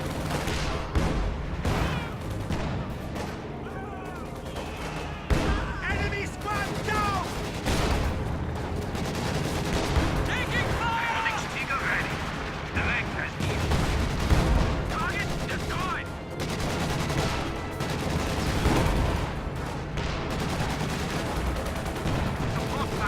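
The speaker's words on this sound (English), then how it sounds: "Panzerwerfer firing" Panzerwerfer rocket artillery firing in a strategy video game, with thumps and booms amid continuous dense battle noise of gunfire and explosions, heard under steady commentary.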